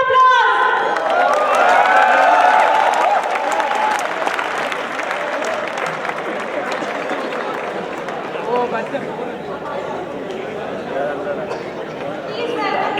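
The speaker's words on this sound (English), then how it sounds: "Give him a big round of applause." Audience applause welcomes a chief guest onto the stage at a university event, loud and sustained clapping with cheering and chatter for about thirteen seconds, peaking early then settling into steady applause.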